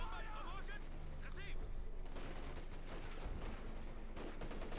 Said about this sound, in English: And an artillery strike there